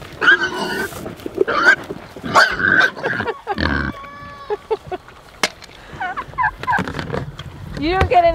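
Turkeys gobble in loud, repeated bursts close by, mixed with other farm animal calls, with brief pauses between the calls.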